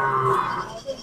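Goats bleat among cattle at a Sylhet livestock market ahead of Qurbani, one loud, close, wavering cry trailing off, with crowd noise and voices around.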